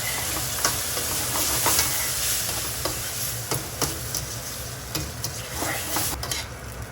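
Carbonara pasta with cream is stirred and beaten vigorously in a saucepan, giving a continuous wet sizzling hiss with frequent sharp scraping clicks, close and fairly loud.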